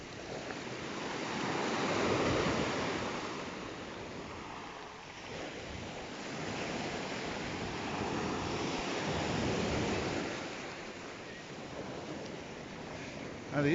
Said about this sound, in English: Now that's what I call an unspoilt Greek beach.